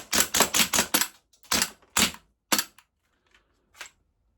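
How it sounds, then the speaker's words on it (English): An ICS BLE XPD airsoft pistol fires BBs in a rapid string of sharp, loud cracks, five quick shots, then a pause and three more spaced shots, followed by a faint click and one last quieter snap. "as I was firing rapid, one of the BBs did accidentally dislodge"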